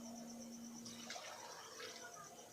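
A glass of water is poured into a spiced chicken mixture for shami kabab, giving a steady splashing gush over a constant background hum.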